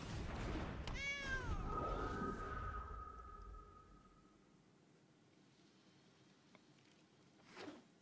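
A cat card in Magic: The Gathering Arena lets out a single clear, rising and falling meow near the start, played loudly over soft game background that then quiets down.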